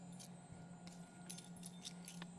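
Keys jangle near a Tormach CNC mill in a workshop, with brief metallic clinks over a steady machine hum.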